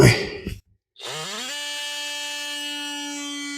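A power tool cuts trim on a flooring transition strip between LVP and tile over concrete. A short rough burst and a brief pause lead into a loud, steady, high-pitched whine that holds to the end.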